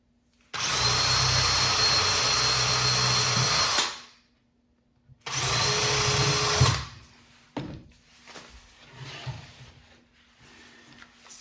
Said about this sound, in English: Now it just so happens I have this countersink bit here.